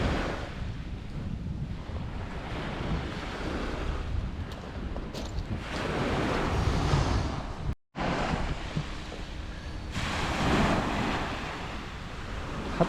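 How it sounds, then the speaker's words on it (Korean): Waves wash onto Silmi Beach on Muuido under strong wind, a loud continuous roar of surf with heavy wind buffeting the microphone, briefly cut out partway through, with no one speaking. "파도가"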